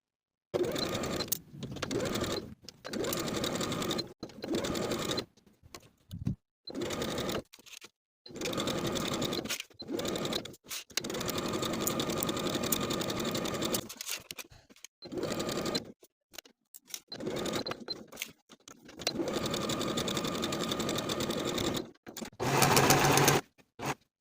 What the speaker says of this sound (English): sewing from the bottom of the sleeve down the side seam, around the pocket to the bottom of the garment